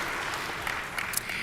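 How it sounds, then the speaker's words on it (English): Audience at the ADL "Never Is Now" 2024 conference applauding, a steady wash of clapping from a large crowd that holds at even loudness throughout. "Yes, you may applaud."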